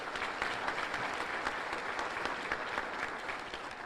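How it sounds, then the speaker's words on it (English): An audience at a State of the State address in Monroe applauds the governor's staff, a steady, dense wash of clapping from a large crowd, moderately distant and unbroken throughout. "Please join me in giving a round of applause to the governor's staff."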